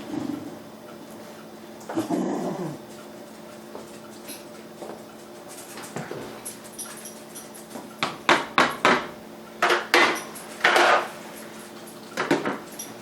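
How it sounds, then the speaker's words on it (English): A utensil knocking and scraping in a pot of chili, a slow run of distinct clinks and taps that cluster into repeated strikes toward the end, close and fairly loud against a quiet room. "Probably let this simmer about 10 minutes after I get done stirring it."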